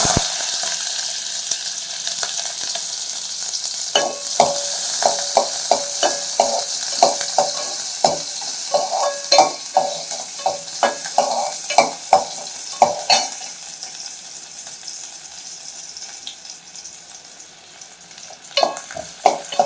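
Onions sizzle in hot oil after mustard seeds have spluttered, for drumstick sambar tempering, while a spoon scrapes and stirs against the pan in quick irregular strokes, close and fairly loud.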